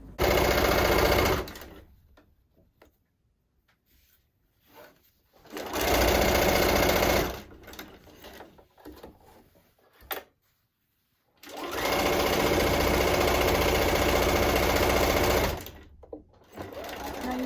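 A sewing machine stitches a quilted winter wreath wall hanging, running in three loud sustained bursts separated by quiet pauses with faint handling noise.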